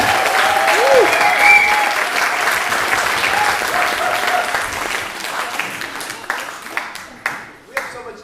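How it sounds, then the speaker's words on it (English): Sustained crowd applause for a performer fills the space, gradually thinning toward the end into a few scattered, louder individual claps. "Let's give a big round of applause."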